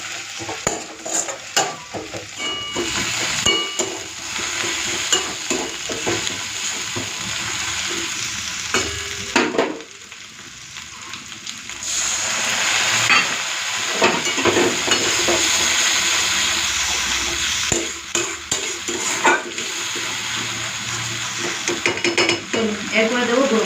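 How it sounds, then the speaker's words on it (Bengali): Ginger-garlic paste frying with onions in a pan for a cauliflower and potato curry, a steady close sizzle broken by repeated scraping stirs and clinks of a spatula against the pan. "আদা রসুন বাটাটাকে পেঁয়াজের সাথে দিয়ে একটুখানি ভেজে নিচ্ছি"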